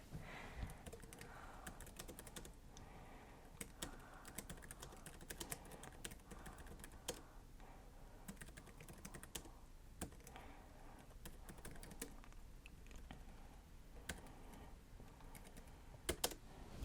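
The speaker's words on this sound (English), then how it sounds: "I'm not the greatest typer in the world, so my typing isn't great to test." Steady typing on a Jelly Comb foldable Bluetooth keyboard, with fast, irregular clicks of keys close by that run on throughout without any talk.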